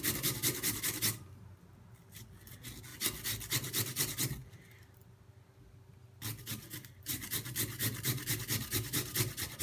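A raw potato is grated to extract its juice, giving steady, close rasping strokes in quick rhythmic bursts, broken by a pause of several seconds before the scraping resumes.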